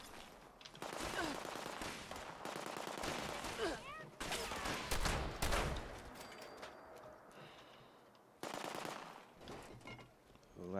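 Rapid bursts of video game gunfire, automatic weapons rattling in repeated volleys with scattered single shots, loud and close, broken by short pauses during online combat.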